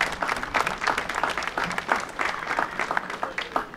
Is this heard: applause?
yes